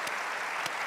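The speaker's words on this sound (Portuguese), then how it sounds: "para quem peço um grande aplauso" A conference audience at a 2012 foundation meeting gives a short burst of dense, even applause that sounds fairly distant and continues steadily through the moment.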